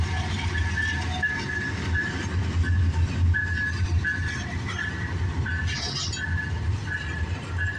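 A CN freight train, southbound symbol CNZ112, rumbles past on the rails at Pefferlaw Road, with rhythmic clickety-clack of wheels over joints and a faint squeal, steady and fairly close.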